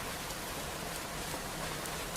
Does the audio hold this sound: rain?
yes